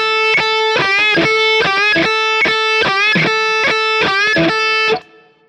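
A second rock guitar lick keeps the same rhythm with different notes, a distorted electric tone playing steady, evenly spaced picked notes with audible bends, loud and close, then stopping abruptly near the end.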